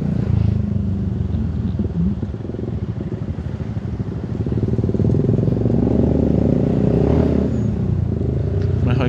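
Loud-exhaust motorcycle, a Ford F350 context aside, threading through jammed traffic: a steady, close engine rumble with uneven throttle surges, other vehicles droning around it, no talk.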